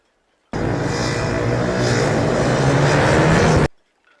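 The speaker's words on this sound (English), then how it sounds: "a load of motorcycles decided to leave the traffic lights noisily" A group of motorcycles pulls away noisily from traffic lights, a sudden loud engine roar that holds steady for about three seconds and then cuts off, heard near and alone.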